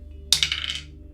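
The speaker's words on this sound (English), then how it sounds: "Let's roll the dice." Dice rattle and clatter onto a tabletop during a wargame, a single sharp close roll that quickly bounces and settles within a second.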